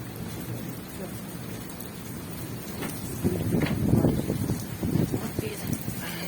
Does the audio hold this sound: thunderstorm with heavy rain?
yes